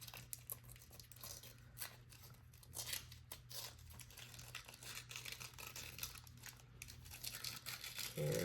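Paper torn from a Hobonichi Cousin planner page, faint crinkly ripping and rustling that runs steadily at close range in a quiet room.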